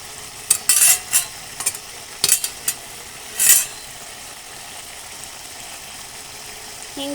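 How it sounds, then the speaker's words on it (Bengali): Fried small fish are stirred into bitter hinche greens in a pan, with a few short scraping clinks of a spatula early on over a faint background sizzle that fades to quiet. "এবার ভেজে রাখা মাছগুলো দিয়ে দিচ্ছি।"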